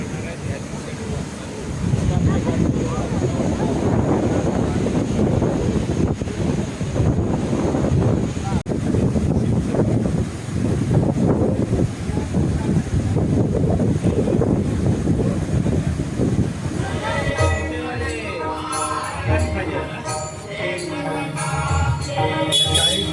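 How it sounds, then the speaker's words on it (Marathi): Steady rushing surf of sea waves at Rajkot fort in Malvan, with wind buffeting the microphone, continuous and fairly loud, with voices talking underneath. "समुद्राच्या लाटांचा आवाज मस्त वाटतो ना ऐकायला"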